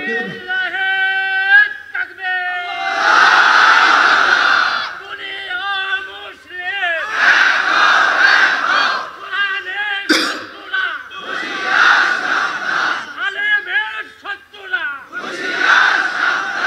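A large crowd chants "Allahu Akbar" in loud, repeated bursts answering a leader's takbir call at a religious gathering, with one voice leading between the swelling group responses.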